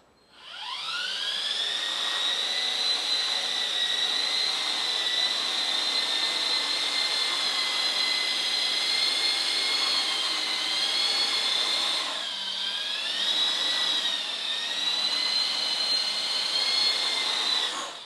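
High-pitched whine of a small RC helicopter's motor and rotors hovering nearby, steady and loud, with a brief dip and pitch wobble midway.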